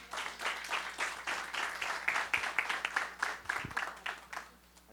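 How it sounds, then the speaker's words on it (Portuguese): Applause at a Brazilian national leaders' workshop and networking meeting, a small crowd clapping in a fairly distinct rhythm, moderately close, with a few louder thumps toward the end. "Eu queria que vocês recebessem com uma forte salva de palmas a secretária da Mulher Empreendedora"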